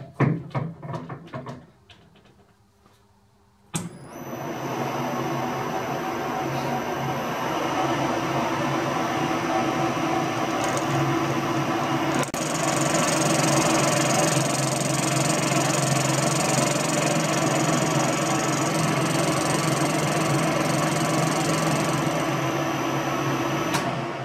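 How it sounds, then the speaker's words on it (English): A lathe machines out the inner diameter of a washer held in the chuck jaws; after a few seconds of light clatter, a steady loud machining drone with a high whine runs continuously to the end, with no talk. "We'll just machine out this"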